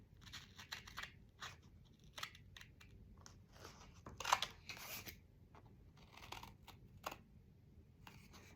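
Scissors snip the corners of a paper pocket for a scrapbook page, a series of short, crisp cuts and rustles at close range, with a louder crunch midway and no talking.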